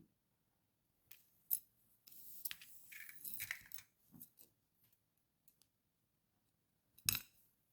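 Cutters snip jewelry wire for beginner earrings: a sharp metallic clip, a stretch of fiddly clinking and handling, then another crisp snip, all close and quiet with silence between.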